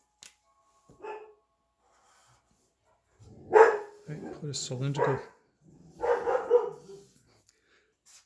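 A dog barks in a few short bursts at moderate distance while someone talks about a geometry problem, the barks overlapping and following his speech.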